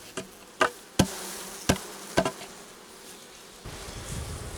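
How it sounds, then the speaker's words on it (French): Honey bees buzzing around an opened beehive, their hum steady and close, broken by several sharp knocks and clatters of handling at the hive. "Bon bah là moi je vois des abeilles. Je vois pas de faux bourdons."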